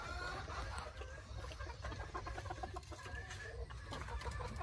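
Bantam chickens cluck continuously at a farm, many birds together in a dense, steady chorus with scattered sharper calls over low background rumble.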